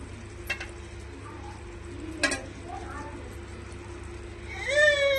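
Eggs frying in a masala in a pan, a soft steady sizzle with a couple of sharp clinks and stirring scrapes, and a faint voice in the background.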